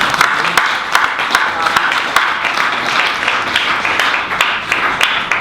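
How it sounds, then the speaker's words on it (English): A conference audience at a Labour Party fringe panel on the health service applauds in a dense, steady wash of clapping, with a few sharper claps standing out throughout. "Adrian, I think that deserves a round of applause, first of all."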